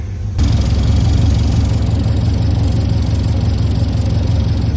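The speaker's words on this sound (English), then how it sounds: "Sounds like there's an exhaust leak on the manifold." A car engine idles steadily up close with an exhaust manifold leak, a continuous low rumble with a fast ticking pulse throughout and no voices.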